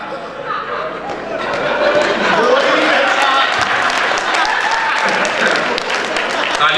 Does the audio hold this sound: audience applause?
yes